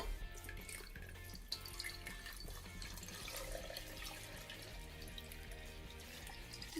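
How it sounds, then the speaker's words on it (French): Water poured steadily into a container to submerge a Galaxy S8 smartphone, a continuous splashing, trickling wash at close range with no talk. "je vais appuyer sur le bouton start et commencer à mettre l'eau"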